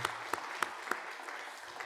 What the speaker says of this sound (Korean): 우리 박수로 한번 축복하면 어떨까요?